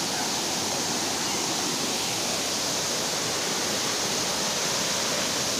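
Budingalu waterfall pours onto stones with a steady, loud, broadband roar of rushing water that fills the whole stretch without pause. No voices are heard.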